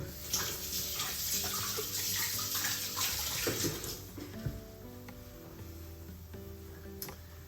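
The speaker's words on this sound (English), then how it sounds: "I'm just going to rinse my hands here" Tap water runs steadily over hands rinsed at a sink, a close continuous splash and gush with faint knocks, heard alone without talking.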